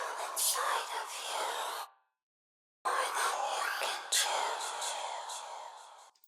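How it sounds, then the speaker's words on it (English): Breathy whispered vocal phrases, airy and hissy with no tone, in two bursts separated by a short silence, close and soft. "you can ask the singer to actually whisper the sounds"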